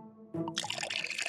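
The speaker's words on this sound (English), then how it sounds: "Let's pour some water." Water poured in a cartoon prank scene, starting abruptly after a quiet lead-in as a close, bright splashing pour that runs steadily to the end with busy background sound beneath it.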